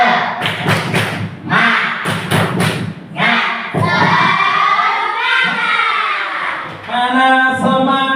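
A classroom of children performs a rhythmic spirit clap, loud bursts of clapping in a patterned beat followed by children chanting together in unison, close and energetic.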